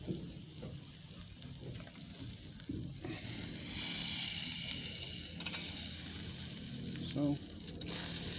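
Philly steak sizzles in butter on a griddle, a steady close hiss that brightens partway through, with a few soft scrapes and pops and no voices over it.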